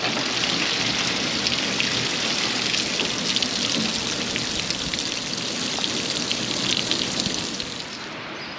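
Steady heavy rain patters densely on a surface, a constant hiss with scattered drip ticks, easing slightly at the end.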